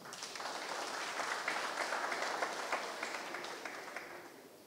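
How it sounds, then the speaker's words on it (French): Audience at an airline's anniversary celebration breaking into steady applause, a dense, even wash of clapping that holds for several seconds before gently tapering off. "Je voudrais que vous applaudissiez ne serait-ce que pour ça."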